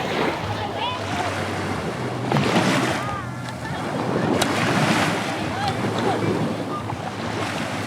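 Ocean surf rolling onto a beach near Taal Lake in Batangas, a steady broadband wash that swells in two louder surges, with wind buffeting the microphone and faint voices in the background.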